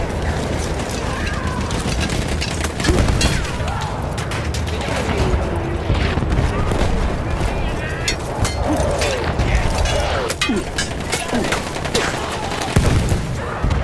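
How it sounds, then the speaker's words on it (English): Battlefield 1 combat: dense bursts of gunfire and booming explosions in a close, continuous barrage with mechanical clatter throughout. "This one is a bit of a mind blower for explosions and action."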